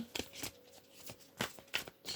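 Tarot cards shuffled by hand in a few quick riffling bursts, crisp papery flutters with brief pauses between them, close and fairly quiet with no talk.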